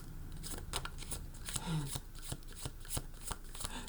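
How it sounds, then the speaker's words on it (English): Tarot cards being shuffled in quick bursts of crisp riffling and slapping, repeated several times at close range, with faint background noise. "How do you want me to shuffle these?"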